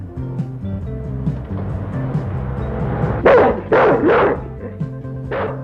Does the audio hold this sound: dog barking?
yes